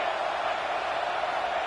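Steady stadium crowd roar in College Football 26, Texas A&M at Florida State, a dense continuous wash of noise held at constant level throughout, with no distinct voice rising above it.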